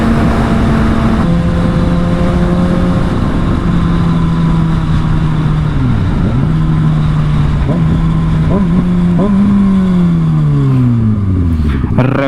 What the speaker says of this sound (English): Rev matching.